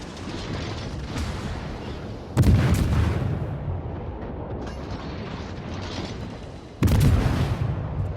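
The destroyer Hayate fires its guns in the World of Warships video game, two heavy booming salvos several seconds apart that stand out loud over steady ambient ship rumble.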